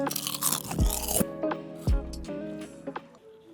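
Two sharp, crispy crunches as homemade shrimp tempura is bitten close up, each followed by softer chewing.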